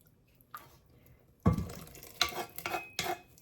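Liquid swished around a hot pan to collect leftover bacon grease while cooking butter beans, giving soft sloshing and scraping bursts with light metallic clinks, near and fairly quiet, in short separate strokes.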